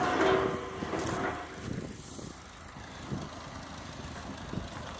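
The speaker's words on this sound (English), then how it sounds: "It's a good old tractor." A 1960 Ford 641 Workmaster tractor idles with a steady low engine rumble, fairly quiet and continuous throughout, with no talking.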